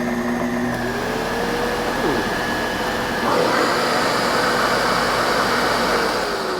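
A vacuum cleaner drawing air through its nozzle, which has a disconnected height adjustment and a missing screw, runs as a constant loud whooshing hum whose pitch shifts about halfway through.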